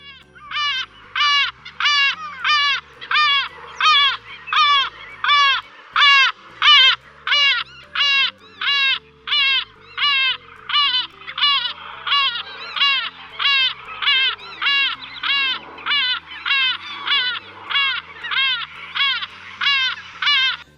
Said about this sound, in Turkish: Dinleyelim bir de videosuna bakalım gümüş martı nasıldı.